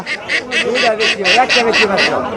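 Loud, rapid quacking repeats in a steady series of about ten calls, close up, from native ducks crowded together with chickens at a rural market in Bangladesh.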